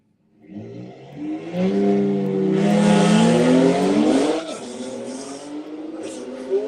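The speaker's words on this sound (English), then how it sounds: "You know it's going to be fast when it says Tom Wrigley Performance on the back" A BMW race car on a track during a test day passes close by, its engine note rising to a loud, sustained roar for several seconds before fading as it moves away.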